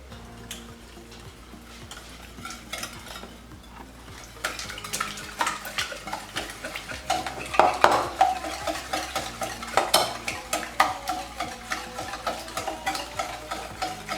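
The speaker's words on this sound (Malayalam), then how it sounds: "നമുക്ക് നന്നായിട്ട് ഈ വിസ്ക് ഉപയോഗിച്ച് മിക്സ് ചെയ്തെടുക്കാം" Eggs, oil and powdered sugar whisked in a bowl for sponge cake, a steady rapid scraping and clinking of the whisk against the bowl, growing louder and busier partway through and continuing throughout.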